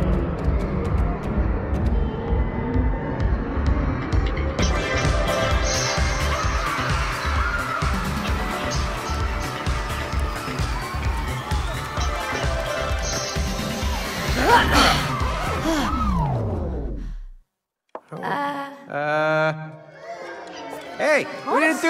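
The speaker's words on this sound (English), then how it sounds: "Do you hear that crowd, May?" Crowd cheering and roaring in the video game It Takes Two, loud and dense with music-like tones, for about seventeen seconds before cutting off, followed by brief character voices.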